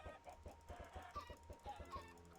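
Chickens cluck in the Minecraft modpack Stoneblock 4, a steady run of short, soft, regularly spaced clucks with faint higher calls, quiet and without talk.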